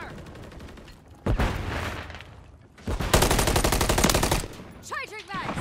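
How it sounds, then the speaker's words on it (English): Gunfire in Call of Duty during a multiplayer match: loud, close bursts of automatic weapon fire come in sustained rattling strings separated by short pauses, with a shouted voice near the end. "I'm taking fire!"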